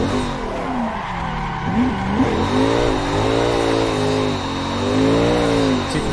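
Car drifting in a sim racing game driven with a wheel and pedals, doing Aussie jump drifts: a steady, loud engine drone with rising and falling revs and continuous tyre squeal and skidding throughout.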